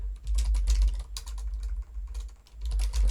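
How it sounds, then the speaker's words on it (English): Quick, irregular clacking of keys on a computer keyboard, close and clear, in short bursts with brief pauses. "We'll type in references"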